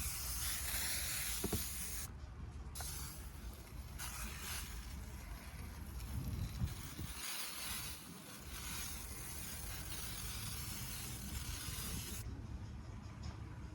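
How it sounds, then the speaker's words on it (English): Steady, loud hissing from a pump sprayer spraying cleaner on a car seat, running almost continuously with a few brief breaks and shifts in intensity, close by. "I got my pump spray right here, so I'm pumping this up."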